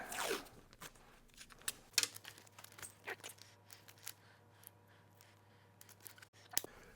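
Scissors cut through a plastic fork guard on an Aprilia motorcycle high fender kit, making sharp, irregular snips and small clicks, close up and quiet, with a low steady hum beneath.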